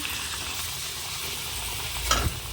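A small ladle of mango pua batter dropped into hot oil in a kadhai, with a steady close sizzle that swells briefly into a louder hiss as the batter hits, then settles back.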